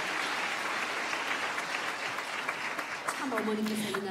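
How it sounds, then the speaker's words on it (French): Audience applause at a religious gathering, a sustained, even roar of many people clapping throughout, with a voice beginning to speak faintly over it toward the end. "S'il vous plaît, veuillez applaudir."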